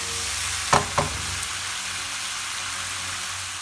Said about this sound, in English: Just give it a little stir for 2 minutes.